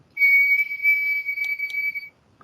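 A whistle is blown straight into a data-logging sensor's onboard microphone, giving one loud, steady, pure tone for about two seconds before stopping abruptly.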